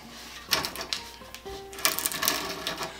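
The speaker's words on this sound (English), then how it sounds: "Thread's doing a good job of pulling the bit." A dull auger bit with restored pilot threads bores into wood, producing short scraping, grinding bursts and creaks with a faint rising tone, close and fairly loud over a low background.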